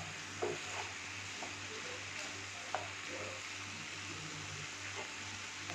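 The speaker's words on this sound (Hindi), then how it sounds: "थोड़े से कटे हुए हमने इसमें कैश्यू डाल दिए। इसे मिक्स कर देते हैं।" Green chillies and chopped cashews being stirred in a pan for butter paneer masala, with a soft, quiet sizzle and a few light spoon clinks and scrapes, no voices.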